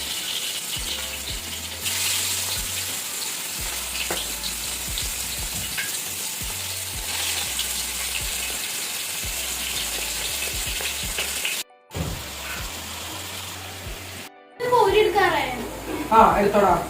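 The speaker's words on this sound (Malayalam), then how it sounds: "ഇനി നമുക്ക് ഇത് ഫ്രൈ ചെയ്യാനായിട്ട് ഓരോ പീസസ് ആയിട്ട് വെച്ചു കൊടുക്കാം." Chicken pieces sizzle and crackle steadily in hot coconut oil, a loud continuous frying hiss with occasional stirring, while people talk over it.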